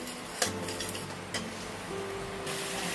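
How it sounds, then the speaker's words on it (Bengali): Spice masala with tomatoes stirred and fried in a pan for pabda fish curry, with metal spoon scrapes and knocks against the pan over a low sizzle, close and without talk. "নিয়ে ভালো করে আমি মশলা কষে নিচ্ছি।"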